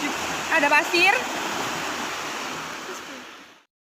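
River water rushes steadily over rocks and sand in a stream, a continuous broad splashing roar close by that carries on throughout and cuts off near the end, with a brief voice over it early on.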